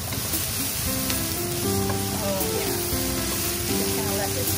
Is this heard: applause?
no